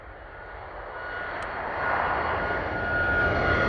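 A Ryanair jet airliner takes off at full power, a loud, steady broadband engine roar that grows slightly louder as the aircraft nears, with no voices over it.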